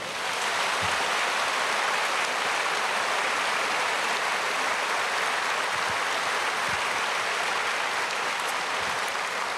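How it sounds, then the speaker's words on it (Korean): A church congregation applauding at a Sunday worship service at Myungsung Church, a steady, dense wash of clapping that fills the whole stretch at an even level with no voices on top. "우리 잠깐 박수해 주시면 감사하겠습니다"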